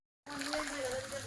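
Rainwater flows and splashes across a farm field during a downpour, a close, continuous trickling wash with a low tonal hum running underneath after a sudden start.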